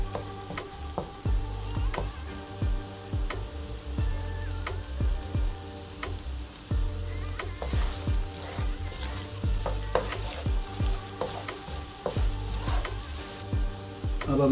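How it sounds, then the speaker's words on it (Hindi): Bell pepper cooking in a pan for masala fries made from potato finger chips, a steady close sizzle with frequent utensil clicks and taps from stirring, no talking. "अब थोड़ी देर के लिए इसको पका लें ताकि हमारी शिमला मिर्च भी सॉफ्ट हो जाए।"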